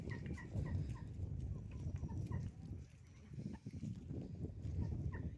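Chickens cluck softly in short, scattered calls over a low, rustling background, fairly close but quiet, while eating boiled potato peels.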